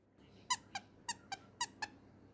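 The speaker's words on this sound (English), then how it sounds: "you've got to grab the chin to squeak the nose anyway" Squeaker in the nose of a handmade FNAF character plush squeezed three times, each squeeze giving a paired high squeak in quick succession, close, clear and otherwise quiet.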